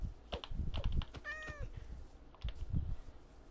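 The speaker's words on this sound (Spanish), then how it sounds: "Espérate, hay otro gato aquí, tío." A cat gives a single clear meow in the middle, surrounded by scattered taps and clicks that resemble typing, fairly quiet overall.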